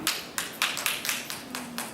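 Argos, a classic toy, is made to clap using a rubber band, giving a steady run of about eight sharp, light clacks close by, evenly spaced with no talking.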